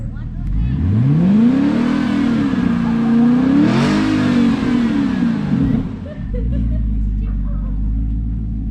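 A rear-wheel-drive car stuck in snow revs hard while being pushed, the engine climbing and falling in long surging sweeps before dropping back to a low rumble.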